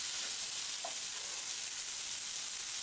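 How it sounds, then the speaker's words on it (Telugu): Small chopped tomato pieces fry in a pan with a steady, even sizzle heard close up, alone without any talking. "టమాటా ముక్కలను కూడా వేసుకుని టమాటా ముక్కలు బాగా మగ్గే వరకు ఫ్రై చేసుకోవాలి"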